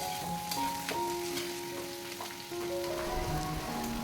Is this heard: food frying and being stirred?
yes